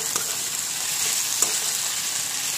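Onions with ginger-garlic paste sizzling in a frying pan, a steady bright hiss broken by a few light clicks of stirring, with no talking.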